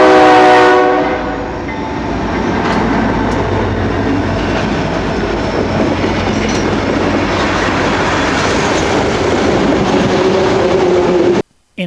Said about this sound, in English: this is the very first ever train that I recorded on video